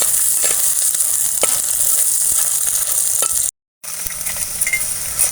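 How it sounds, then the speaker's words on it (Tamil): Onion and garlic sizzle steadily in a hot pan with oil for a Tamil greens chutney, a close loud frying hiss with occasional stirring scrapes and one brief dropout of silence. "நல்லா வதங்கட்டும் பொன்னிறமாக செவக்கட்டும் வெங்காயமும் பூண்டும்"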